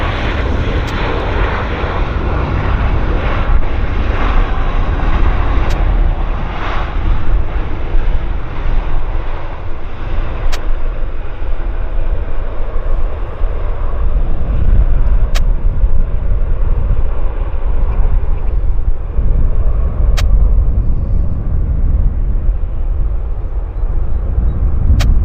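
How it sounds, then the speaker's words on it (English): A fixed-wing airliner lands at Vancouver Airport, giving a steady broadband engine roar mixed with wind rumble for the whole stretch, loud and continuous with no talk. "that's a long landing on him for sure"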